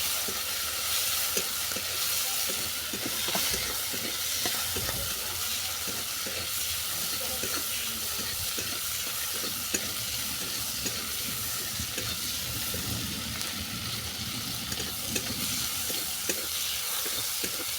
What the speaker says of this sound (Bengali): রুই মাছ ভালো করে ভাজা হয়ে গেছে